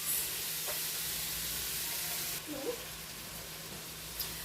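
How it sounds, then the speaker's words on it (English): Pork browning in a pan for green enchiladas, a steady broadband sizzle and frying hiss running throughout at moderate level, with a brief stir and slight change in texture partway through. "you're just going to cook it down until the pork is cooked all the way through"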